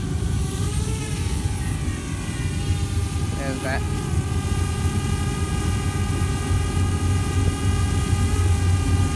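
A drone flies off above Mormon Rocks in California's Cajon Pass, giving a steady, high-pitched motor whine over heavy wind rumble, with a brief spoken remark partway through.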